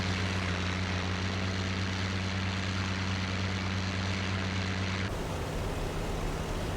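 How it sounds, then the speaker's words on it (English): Simulated P-51 Mustang piston engine in IL-2 Sturmovik, a loud, steady droning hum with strong low harmonics that shifts abruptly in tone near the end, with no talk. "the engine, the sound of the P-51 in altitude Sturmovik"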